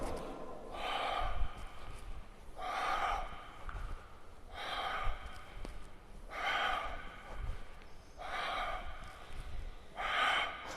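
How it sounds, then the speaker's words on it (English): Breath pushed out during a yoga twist: six or so audible exhales at regular intervals, close and soft, with quiet pauses between them. "While going down, breathe out."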